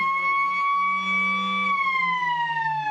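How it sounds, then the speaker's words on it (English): A long, steady siren wail at a football match holds a high tone, then slowly drops in pitch near the end, with a low hum running underneath. "Siren's gone."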